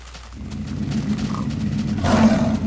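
A male lion roars in the Minecraft video game, a loud, sustained low growling roar lasting a few seconds and swelling toward the end, with no talk over it.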